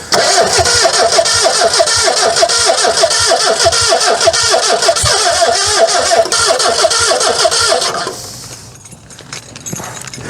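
An old British car that has sat for 25 years cranks hard on its starter and catches into a loud, rough running engine, which then cuts out and leaves near silence.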